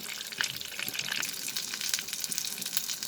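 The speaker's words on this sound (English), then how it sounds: "After placing all the brinjal in the oil, increase the flame, put it into medium and let it get cooked one side." Brinjal pieces frying in oil over a medium flame in a pan, a close, steady crackling sizzle with dense sputtering pops and no talking.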